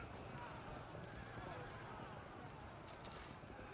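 Horses whinny and hooves pound steadily through the background of a Field of Glory II ancient battle, fairly faint under a constant game ambience, with a sudden loud burst at the very end.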